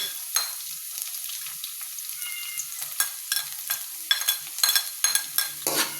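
Garlic fries in a pan for chicken kinamatisan, giving a bright continuous sizzle with intermittent stirring clatter and crackling bursts.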